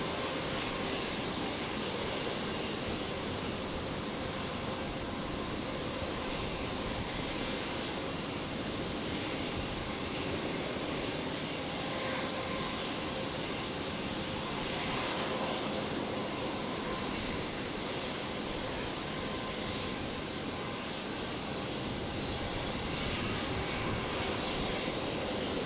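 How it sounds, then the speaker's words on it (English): A Virgin jet airliner rolls for takeoff at Brisbane on a stormy night, bound for Melbourne, its engines a dense, constant, loud roar that holds steady for the whole stretch with no talking over it. "Virgin 342 rolling now."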